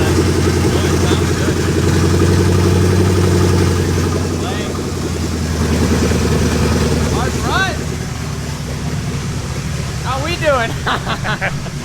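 A Ford 5.0 V8 swapped into a Ranger pickup runs steadily close by, a loud continuous rumble with a brief rise around the middle, while people talk over it throughout.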